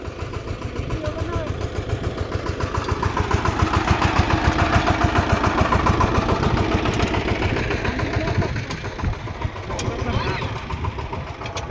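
A heavy tractor engine runs steadily close by in a farm field with a throbbing, knocking rhythm, while people talk over it.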